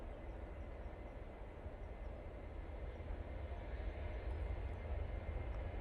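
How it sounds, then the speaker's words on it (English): An Etihad Boeing 777 airliner approaching to land near Manchester Airport rumbles distantly, a low, broad, steady roar that slowly swells. "Do have the Etihad 777, which is running a bit late today, just to the south of us"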